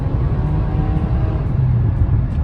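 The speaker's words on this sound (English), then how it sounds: "I love the sounds of the engine." Steady low engine rumble with road noise from inside a moving car, a continuous droning hum with no talking.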